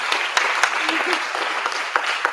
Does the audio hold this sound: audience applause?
yes